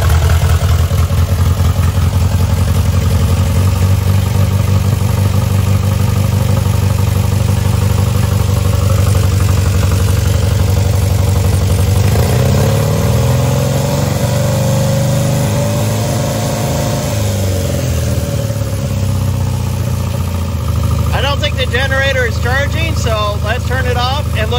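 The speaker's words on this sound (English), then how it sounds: "So we need to run it and rev it up and see if this number increases" A Sprite car engine, being checked for charging problems, runs loud and close with a steady rumble, its pitch rising and falling as it is revved midway, and a voice briefly speaks near the end.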